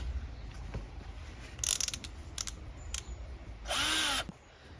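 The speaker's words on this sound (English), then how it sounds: "Put pilot holes in" A power drill whirs in short bursts drilling pilot holes in wood, with a couple of brief spins followed by one longer, steady run, close by and fairly loud.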